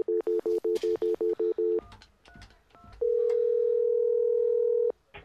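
A phone keypad beeps through a rapid run of dialing tones, followed by a few scattered beeps and a long steady tone before cutting off, heard clearly and up close.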